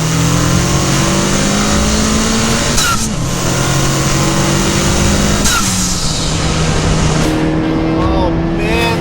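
Honda Civic Type R fitted with HKS and PRL charge pipe kit accelerates hard at Laguna Seca, a loud sustained engine roar rising through gears with brief dips at shifts, heard from inside with voices talking over it.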